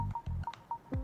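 Telephone keypad tones from a number being dialed in a Famicom Detective Club mystery adventure game, a quick series of short beeps in an uneven rhythm, fairly quiet, with no voices.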